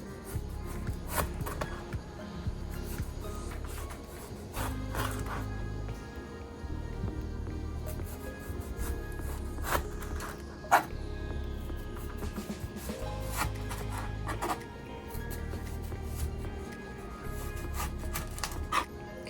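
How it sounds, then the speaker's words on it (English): A knife slices green tomatoes on a cutting board during home cooking, giving soft, scattered taps and cuts over a low, pulsing background hum. "And you can slice this as thin or thick as you prefer."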